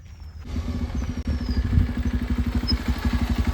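A motorcycle engine idles nearby, starting after a brief quiet and settling into a steady, low, chugging rhythm with light mechanical clatter.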